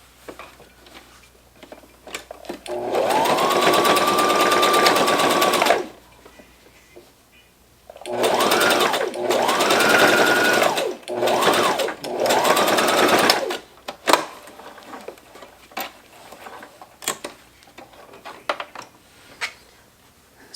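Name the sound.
sewing machine sewing a fabric face mask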